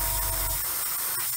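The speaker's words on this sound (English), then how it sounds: "It's spraying absolutely beautifully" An airbrush sprays MRP primer onto a 1/35 Meng BUK missile model kit, making a steady, close airy hiss throughout a short burst with no talking.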